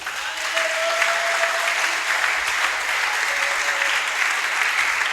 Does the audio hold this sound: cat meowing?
no